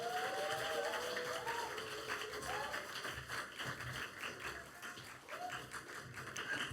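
Applause from a church congregation at a Sunday afternoon service, welcoming the preacher to the pulpit; broad, steady clapping fills the room for several seconds, with a few faint voices mixed in.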